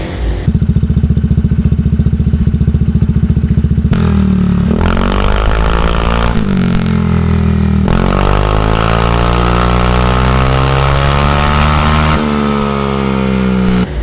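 Honda ADV160 scooter fitted with an aftermarket exhaust pipe, revving repeatedly close up: a steady idle burble, then several sharp throttle blips rising and falling in pitch, loud and alone.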